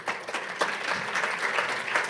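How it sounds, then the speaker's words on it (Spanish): Audience applause greeting a panel moderator and panelists at a rural insurance discussion, a continuous wash of clapping from a moderate-sized crowd lasting a couple of seconds. "con un fuerte aplauso quiero dar la bienvenida al doctor Duzán como moderador y a sus panelistas"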